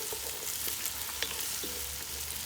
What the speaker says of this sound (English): so I'm going to add the onion. Then I'm going to add the fresh bay leaf.